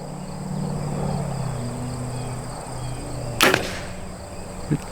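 A G5 Dead Meat 3-blade fixed broadhead arrow strikes a bone target outdoors with one sharp, loud impact crack. A fainter knock follows, and crickets buzz steadily underneath.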